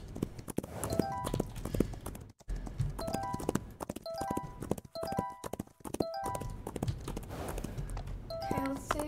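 Horse hooves clip-clop steadily in a video game, a busy run of close, crisp hoof strikes with chiming game sounds mixed in, heard alone without talk.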